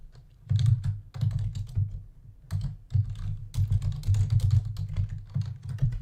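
Mechanical computer keyboard keys clatter in quick bursts of close, crisp typing with short pauses between runs, played up as ASMR key sounds with no voice.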